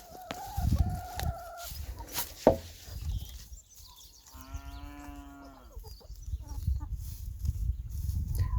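Farm chickens offered parsley cluck and call close by, with short clucks, a drawn-out harmonic squawk in the middle and scattered rustling and knocks around them.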